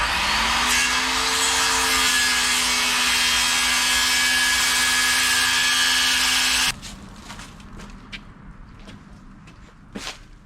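Wooden deck boards being trimmed to length with a power saw during a utility trailer rebuild: a loud, steady cutting whine runs for several seconds, then stops abruptly and gives way to quieter knocks and handling of the wood.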